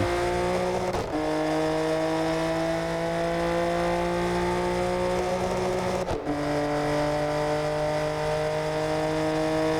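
A car cruising through traffic at night in Japan, from the driving game Assetto Corsa in no-hesitation mode, with a sustained engine drone that climbs steadily in pitch and drops sharply at two gear changes, loud and continuous.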